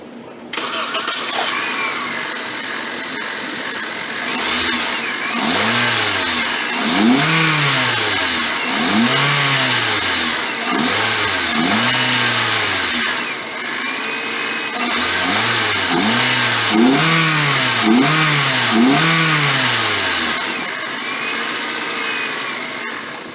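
A 2007 Honda Civic 1.8L LX fitted with a short ram intake starts up and revs repeatedly, each loud throttle blip rising and falling in pitch in a steady series of close, roaring pulses with no talk over them.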